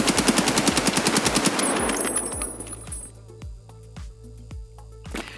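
An AK rifle fires fully automatic without recoil control in a video game, a rapid, loud, evenly spaced burst that stops abruptly, followed by a few sparse clicks and faint mechanical sounds.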